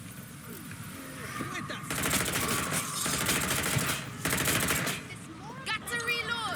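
Gunfire in the video game Watch Dogs: Legion, with sustained bursts of rapid automatic shots that come in dense volleys, loud and continuous, while voices speak over it.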